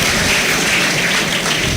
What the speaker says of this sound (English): A clap for Charity.